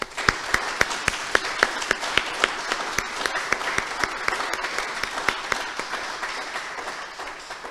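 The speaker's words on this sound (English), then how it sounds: "I would like us all to give him a round of applause" A faculty audience applauds Professor Steenkamp on his promotion to full professor at a veterinary inaugural lecture, a modest crowd's clapping with distinct individual claps audible, steady and moderately close.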